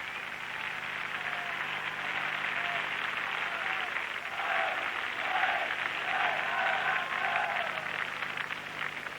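Arena crowd at the 1981 World Gymnastics Championships women's apparatus finals cheers and applauds steadily, a dense wash of clapping and shouting that swells slightly midway and holds throughout.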